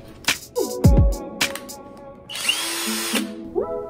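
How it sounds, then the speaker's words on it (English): A MaxSell MCI-20V cordless hammer drill whirs in several short bursts with rising and falling motor pitch, then holds a longer high-pitched run near the end, loud and close with no talking. "Variable speed switch allowing for smooth pilot drilling followed by rapid drilling at full speed."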